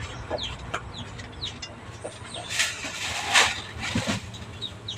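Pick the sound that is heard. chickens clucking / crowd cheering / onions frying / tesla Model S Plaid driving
chickens clucking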